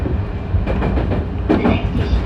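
A Tobu Isesaki Line train bound for Kuki runs along steadily, a continuous low rumble with faint rhythmic wheel clatter throughout.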